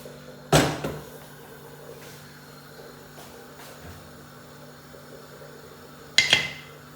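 Two sharp metallic clanks about six seconds apart as a pressure cooker of whole masoor lentils is set on a stove, with a quiet hum between them.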